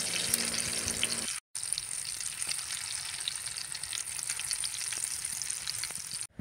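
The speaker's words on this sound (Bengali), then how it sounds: "এবার আমি ধোকাগুলো উল্টে দিচ্ছি, অপর সাইডটা একটু ভেজে নেব।" Patol dhoka cakes fry in shallow oil as they are flipped to the other side, a steady soft sizzle with a brief break partway through, faint and close with no talk.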